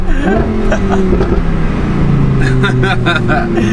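A Lamborghini accelerates hard, its engine note loud and close, rising and shifting through the pitch continuously, with talk over the top.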